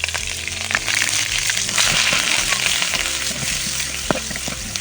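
Onion paste hits a pan of fried fish and sizzles loudly, with continuous crackling and occasional stirring scrapes close by.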